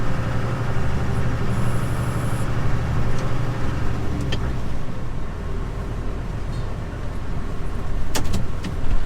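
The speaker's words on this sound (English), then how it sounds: "I do like this old tractor" An old loader tractor's engine runs with a low, steady diesel rumble close by, continuous throughout, with a few brief knocks and clanks over it and no talk.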